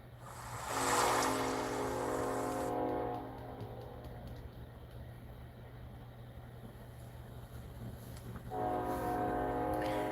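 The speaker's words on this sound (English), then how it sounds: "I hear that train horn, doesn't bother me." A train horn blares twice in long, loud blasts over a low, steady rumble, with a quieter stretch of rolling noise between them.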